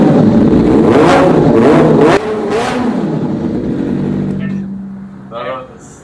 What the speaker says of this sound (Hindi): अभी मैंने माइक अपना निकाल लिया ताकि मैं आपको एग्जॉस्ट प्रॉपर साउंड के साथ सुना सकूं